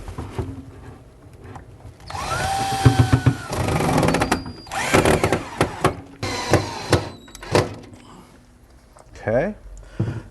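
A power drill drives kit-supplied screws into a wall stud while a Brew Express unit is mounted, producing short whirring bursts mixed with clanks and knocks. A person talks nearby.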